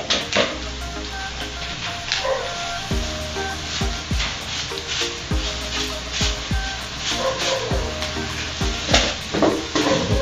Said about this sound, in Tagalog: Ito po natin halo-haloin para mas manis yung lasa.